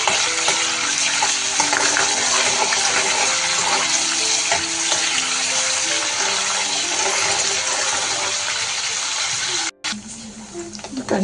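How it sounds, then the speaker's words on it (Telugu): Paneer pieces sizzling in hot oil in a home kitchen, a loud continuous hiss and crackle of frying that runs steadily, with a brief dropout near the end. "ఈ పన్నీర్ పీసెస్ వేస్తున్నాను. కొద్దిగా ఫ్రై చేసుకోవాలి, కొంచెం సాఫ్ట్ అయ్యేంత వరకు."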